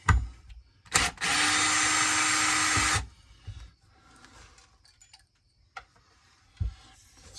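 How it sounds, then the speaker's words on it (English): A power tool whirs steadily for about two seconds while removing bearing set screws from a Homelite Super XL-130 chainsaw, followed by scattered clicks and taps of metal parts close by. "Let's get these bearing set screws out."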